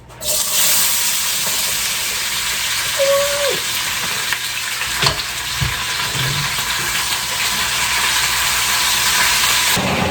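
Potatoes dropped into hot oil set off a loud, steady frying sizzle that carries on evenly at close range, with a few faint clunks and no talking.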